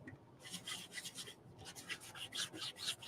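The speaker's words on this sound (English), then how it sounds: "So I'm just going to rub it on" Chalk paste rubbed by hand onto a surface with a cloth or applicator, producing soft rhythmic scrubbing strokes that repeat steadily and sit close, fairly quiet, with no talking.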